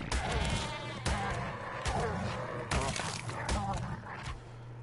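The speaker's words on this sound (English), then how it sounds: "Oh, I found some sheep." Sheep in Ark: Survival Evolved bleat in a few repeated calls over game sounds, with a person talking alongside.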